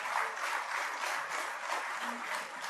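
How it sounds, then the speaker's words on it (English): A large audience applauds steadily to welcome the Prime Minister of India at the inaugural session of a semiconductor conference, a dense, even wash of clapping throughout. "Let's give a round of applause and welcome the Honorable Prime Minister of India"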